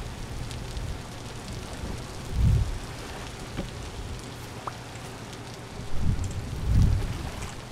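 Steady rain in the video game Vintage Story, a fine hiss of drops on surfaces with a few low rumbling swells of thunder rolling in, no talking.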